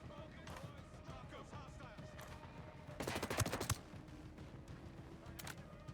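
A short automatic burst of gunfire sounds in Ghost Recon Breakpoint, a rapid string of sharp cracks about halfway through, faint and set against low game ambience, with a few scattered taps before and after.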